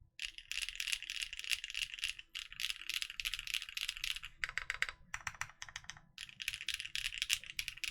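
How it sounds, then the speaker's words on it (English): Neo65 Core Plus mechanical keyboard with no foam, pumpkin switches on an aluminium plate and GMK keycaps, typed on up close: rapid, even streams of crisp, clacky keystrokes in bursts with brief pauses, fairly quiet overall. "this is the Neo65 Core Plus, 0 foams, pumpkin switches on an alu plate with GMK"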